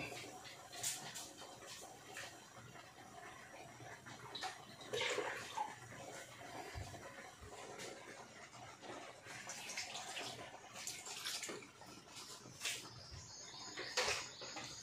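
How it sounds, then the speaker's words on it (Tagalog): Water is poured into a pot of lechon paksiw, soft intermittent splashing and trickling at low level, with faint bird chirps in the background. "Lagay ko konting tubig."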